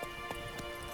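Horse hooves clip-clop in The Witcher 3 as a mount is urged on, with about three soft, evenly spaced clops over a faint steady background hum.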